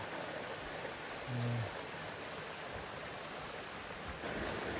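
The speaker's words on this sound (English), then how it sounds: "I don't know if it's the stream or we've crossed water several times, and it's definitely flowing" Flowing stream water along a hiking trail on the Appalachian Trail, a steady broadband rush that stays even and moderately quiet throughout, with no speech.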